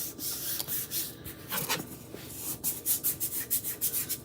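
Chalk paste being rubbed over a stencil, a series of close scratchy rubbing strokes that quicken into a rapid rhythmic back-and-forth toward the end, with no talking.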